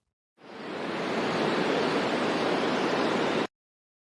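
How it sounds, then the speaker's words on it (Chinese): Wind sound effect from an audio editing library, previewed on its own as background ambience: a smooth, steady rushing noise that fades in, holds at even loudness for about three seconds, then cuts off abruptly. "我们可以单独听一下这个风声"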